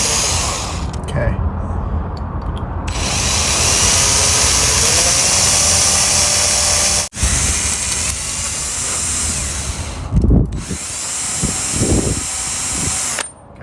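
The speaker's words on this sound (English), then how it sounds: "So after drilling my hole here and here" A power drill bores a hole in a part of a 47RH automatic transmission during a DIY rebuild, a steady close whine running for several seconds, stopping briefly, then a few shorter bursts.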